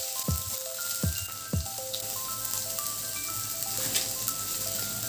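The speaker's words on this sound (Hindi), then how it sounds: "गर्म जब हो जाए इसमें डालें हरी मिर्च, फिर सारी सब्जियां और लहसुन।" Green chillies, mixed vegetables and garlic sizzling in hot mustard oil in a large kadhai, a soft steady hiss running throughout beneath background music.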